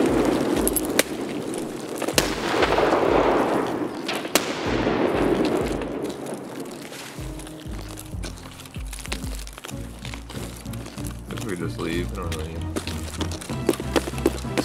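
Grenade blasts in the combat video game War Thunder, a run of loud cracking bursts early on followed by lighter clattering thuds and debris, with a voice faintly under the action.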